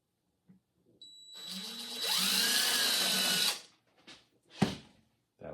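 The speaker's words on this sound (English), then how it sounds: "so I'm going to drill just about there." A power drill whines as it bores into the wall of a wooden two-story slab-built bird house, one sustained burst of about two seconds that rises in pitch, followed by a few soft knocks.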